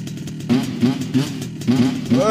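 A moped engine revs in short bursts with a buzzy, popping exhaust, close by, while voices talk over it.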